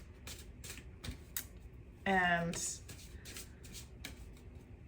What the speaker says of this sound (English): I focus on that as I am shuffling the cards